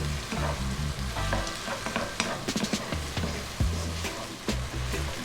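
Chillies sizzle steadily in a hot pan over lively heat, a continuous close frying crackle with occasional stirring clatter, no voices.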